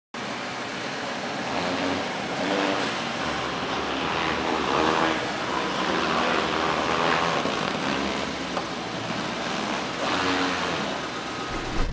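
A 2010 Dodge Challenger's engine rumbles steadily at an auto show, a continuous mid-level growl with slight revving swells that carries on alone for about twelve seconds.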